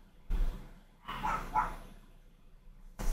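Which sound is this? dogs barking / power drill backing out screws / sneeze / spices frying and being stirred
dogs barking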